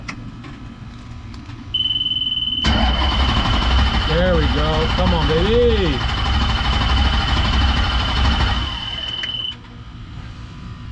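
The engine of a 1968 Dodge Charger Hellcat project car cranks, then catches and settles into a loud, rough idle that runs steadily for several seconds before cutting back, with a steady whine over it and someone talking briefly.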